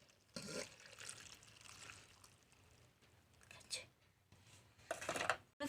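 Water poured into a pot of dal made with tamarind tender leaves, heard in several short splashing bursts separated by quiet gaps, with light kitchen clatter and a voice speaking.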